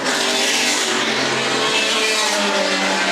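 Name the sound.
historic race cars racing, Sussex Trophy at Goodwood Revival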